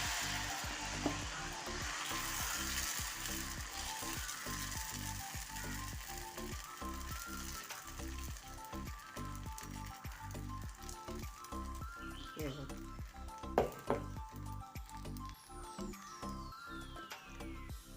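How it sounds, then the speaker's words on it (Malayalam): Beetroot dosa batter hisses and crackles on a hot, oiled dosa griddle, a steady close sizzle with rapid popping ticks running throughout. "ദോശക്കല്ല അടുപ്പത്ത് വെച്ചിട്ടുണ്ട് അത് ചൂടായി അതിലേക്ക് എണ്ണ തേച്ചു നമുക്ക് മാവ് ഒഴിച്ചു കൊടുക്കാം"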